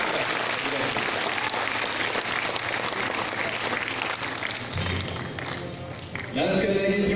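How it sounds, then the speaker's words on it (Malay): Audience applause at a Malaysian school alumni talk event, a steady dense wash of clapping lasting throughout, swelling louder near the end with some voices mixed in. "kita berikan tepukan kepada semua yang pada dapat kita"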